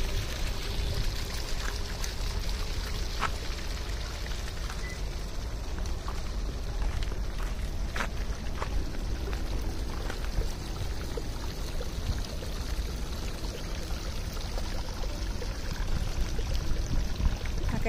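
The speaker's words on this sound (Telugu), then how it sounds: "వాటర్ అట్లా చెరువులోకి వెళ్తూ ఉన్నాయి." Water flowing steadily into a pond in a park, a continuous soft rushing and trickling stream at moderate distance, unbroken throughout.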